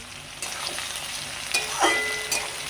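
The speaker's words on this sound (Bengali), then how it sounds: "পেঁয়াজ কুচি, কুচনো কাঁচা লঙ্কা দিয়ে ভালো করে নাড়াচাড়া করে দেবো" Chopped onion and green chili sizzle in an oiled pan while being stirred, a soft steady frying hiss broken by several louder scraping stirs of the spatula, close and without talk.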